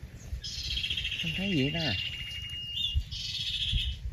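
Small sunbirds chirp and trill near a bird trap outdoors, a bright twittering song running through most of the moment, with one clear rising call in the middle, while someone talks quietly over it.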